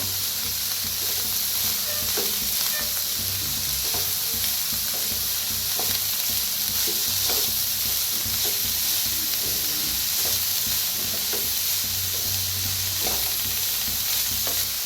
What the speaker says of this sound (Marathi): त्याच्यातच टाकूया आपण फुलगोबी, हे पत्ता गोबी, त्याला ते भाजून घेऊया।